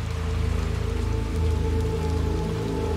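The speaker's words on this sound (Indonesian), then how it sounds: "sekarang lagi hujan" Steady rain pours down in the video game Little Nightmares 2, a dense continuous hiss of drops striking surfaces with low rumbling ambience underneath, no voices.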